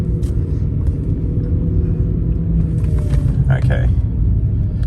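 A car with a dual-clutch transmission pulls away in first gear while the clutch slips under about 3 bar of pressure, giving a loud, steady low engine rumble and drone that barely changes throughout.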